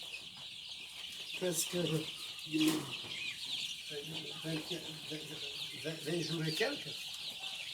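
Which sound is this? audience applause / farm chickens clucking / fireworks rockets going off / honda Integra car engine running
farm chickens clucking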